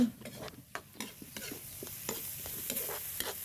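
Eggs stir-fried with spring onions in a pan, sizzling steadily while a spatula scrapes and taps through them in quick, irregular strokes, close up with no talking.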